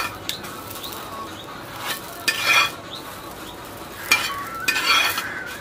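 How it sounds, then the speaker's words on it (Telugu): Bakshalu flatbread cooks on a pan and is turned over, with soft scraping and stirring clatter in two short bursts over a faint background sizzle. "దాన్ని ఇట్లా గిరిక లెక్క తిప్పితే సైడ్ లెక్క కాలుతుంది"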